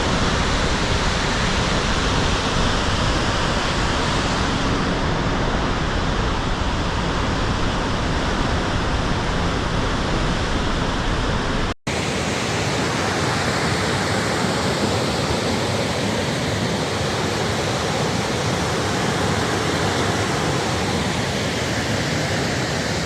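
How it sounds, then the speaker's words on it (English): Victoria Falls on the Zambia side thunders with gushing water, a loud, unbroken broadband roar that fills the whole stretch, briefly cut off once before resuming just as strongly. "can see the water gushing between the two sides"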